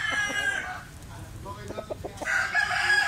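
A rooster, a red-orange stag fighting cock, crows twice outdoors, the first call near the start and another toward the end, with clucking and faint voices in between.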